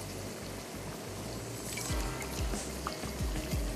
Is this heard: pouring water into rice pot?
yes